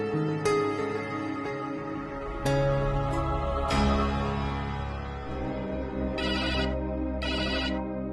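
A mobile phone ringtone plays a looping electronic melody, close and clear, with distinct tonal notes repeating over several seconds and no talking.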